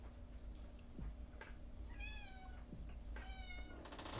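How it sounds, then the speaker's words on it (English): A cat whines and meows in two drawn-out, wavering cries, close by and fairly clear, with a soft low hum and faint room noise around it. "The little whiner kitty."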